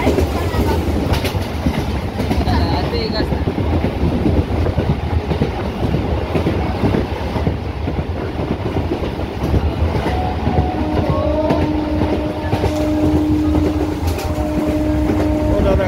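Continuous loud rumbling and rattling of a passenger train moving on its rails from Sealdah toward Bakkhali, with brief tonal squeals near the end.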